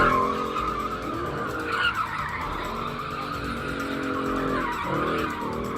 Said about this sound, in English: Car groups taking over busy intersections and also now sparking reaction from the San Antonio Police Department.